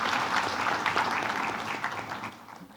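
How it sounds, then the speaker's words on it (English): An audience at a logistics regulation panel discussion gives the panelists a round of applause, a dense wash of many hands clapping that swells and then gradually tapers off. "please give a round of applause to the panelists here"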